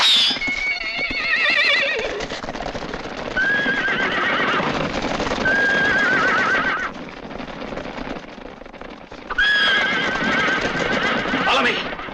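Horses whinny loudly in several bursts over a steady clatter of hooves, with voices faintly present beneath.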